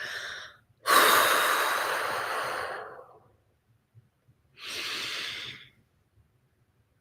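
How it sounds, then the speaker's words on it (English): Two long, breathy exhales, the first loud and sustained for about two seconds, the second shorter and softer after a pause, set in a calm meditation session with quiet room tone between them. "you can just give a big exhale and let out all of your air"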